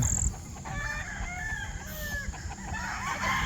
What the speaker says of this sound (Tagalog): yung sisiw, pinapagala na dito nila Mark